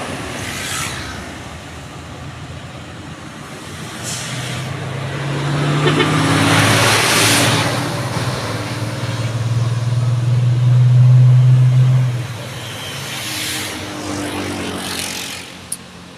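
A vehicle hauling an excavator climbs the Bukit Kodok incline on a hot midday, its engine rumbling louder and nearer as it passes, then fading away over a steady road background.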